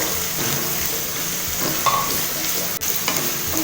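Snake gourd pieces fry in oil with onions over a high flame, giving a close, loud continuous sizzle broken by brisk stirring and scraping in the pan.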